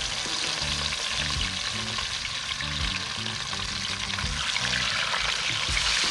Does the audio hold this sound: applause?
no